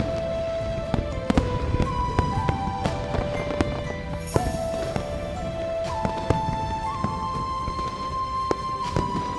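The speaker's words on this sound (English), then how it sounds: "The fireworks are too loud." New Year fireworks in the game Love and Deepspace, a dense crackle of pops and bursts layered under a continuous festive musical backdrop, steady and fairly loud throughout.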